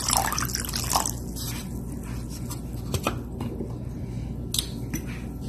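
Half a cup of water poured into a pan while cooking Mongolian beef with cornstarch, a steady splashing trickle with a few drips, close and moderately loud.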